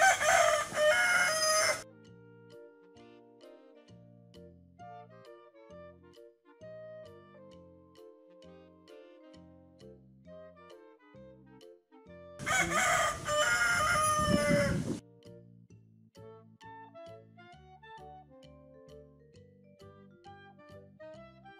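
A rooster crows twice, each loud burst lasting about two seconds and spaced well apart, with light plinking music playing in the gaps between calls.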